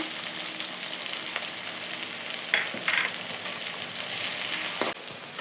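About a cup of onions with salt frying in a pan for a goat liver bhuna, a steady close sizzle with a few stirring scrapes and a brief clatter near the end, no talk.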